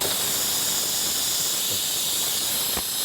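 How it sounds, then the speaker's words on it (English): Air hisses out of the front brake air valve on a tilting mounting arm, a steady, fairly loud close hiss that runs unbroken throughout. "when tilting the swing arm backward, air comes out of the front brake air valve"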